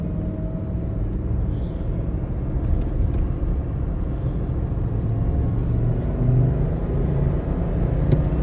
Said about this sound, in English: I'm gonna drop it in second and let's get going